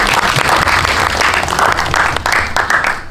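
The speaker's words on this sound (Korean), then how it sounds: "약간 박수 한번 부탁드릴게요." Steady applause from an audience at a film talk event, dense clapping throughout at an even level, with no one speaking over it.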